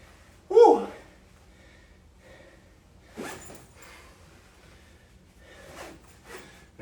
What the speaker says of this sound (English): Make sure that backpack is zip shut.